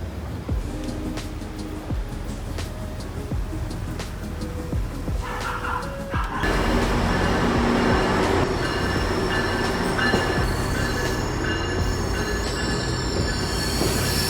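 A train rumbles nearby with rhythmic clicks, then grows louder as wheels screech and squeal in high metallic tones over a steady roar.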